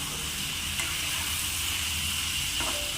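Brinjal and green chillies fry in coconut oil, giving a dense, loud, unbroken sizzle close up. A faint clink comes near the end.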